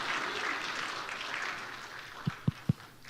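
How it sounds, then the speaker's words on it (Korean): Church congregation applauding to welcome a young woman from the youth group, a steady wash of clapping that fades toward the end, broken by a few low thumps. "박수로 환영하겠습니다."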